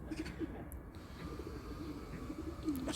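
Soft, low cooing of pigeons repeats throughout, close by and gentle, with faint background rustle and no talking.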